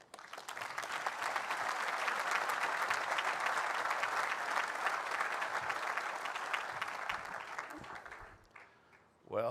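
A commencement audience at Cushing Academy applauds steadily for several seconds, a dense, even wash of clapping that fades out near the end.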